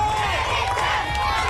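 Outdoor crowd at a Spartan obstacle race in Australia, a dense wash of cheering and shouting voices, steady and loud throughout a short burst.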